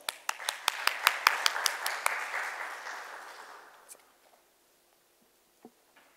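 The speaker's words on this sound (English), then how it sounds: "let's welcome him with a round of applause" Audience applause at an electronics industry conference welcoming a keynote speaker: a few sharp individual claps swell into a steady round of clapping that fades out after about four seconds, followed by near silence and one stray clap.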